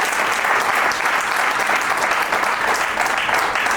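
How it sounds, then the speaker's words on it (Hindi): Warm applause from an audience at a book launch event, a thick, sustained roar of many clapping hands, loud and close, with no speech over it. "जोरदार तालियों से स्वागत किया जाता है।"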